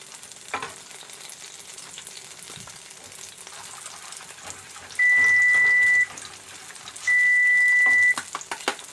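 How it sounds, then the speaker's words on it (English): Gravy being whisked in a hot pan for a breakfast-for-dinner meal, a continuous soft sizzle with scraping stirs, broken twice by a steady electronic tone, with no talking. "let me get a whisk here for our gravy."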